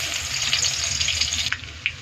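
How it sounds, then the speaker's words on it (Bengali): Garlic sizzles and fries steadily in hot oil in a pan, a dense continuous crackle, followed by a couple of brief utensil clicks as the frying sound cuts off. "রসুন ভাজা হয়ে গেছে"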